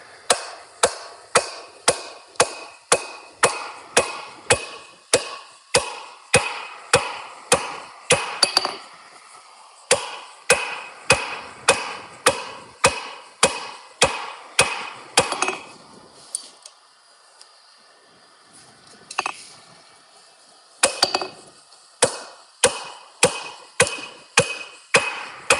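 Hand hammer blows on hot steel against an anvil while forging flat jaw tongs, a fast steady run of sharp ringing strikes in bursts with short pauses, close and loud, with no talking.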